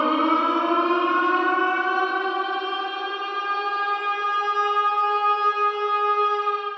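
A tornado warning siren in Chicago wails in one long, loud, sustained tone that rises slightly in pitch, with echoing reverberation and no voices.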